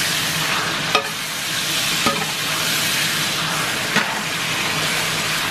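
Chicken fillets fry in a pan for biryani, a steady hissing sizzle with a few sharp clinks of a stirring utensil against the pan at intervals.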